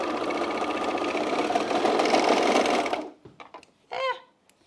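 A domestic sewing machine runs fast through men's jeans fabric for about three seconds, a loud steady whirring rattle that stops abruptly, followed by a few small clicks and handling sounds.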